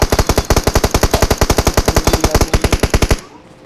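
Rapid sustained automatic gunfire from a machine gun in the mobile battle royale game PUBG Mobile, a loud, evenly spaced burst of about thirty shots over three seconds, then quiet.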